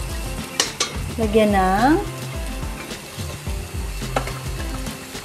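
Soup ingredients sauté in a pan for sopas, a steady sizzle with stirring scrapes close by, while a voice speaks briefly over the cooking.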